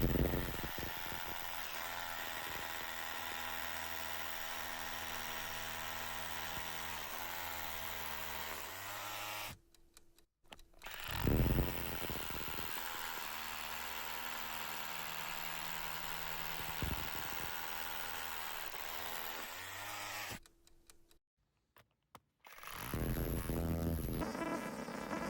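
Parkside 12V Performance drill fitted with a 12mm SDS bit boring into brick, a steady close motor whine with grinding drive, running in two long stretches broken by a brief stop and ending in a short burst.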